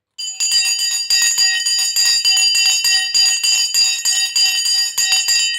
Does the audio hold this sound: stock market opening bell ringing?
yes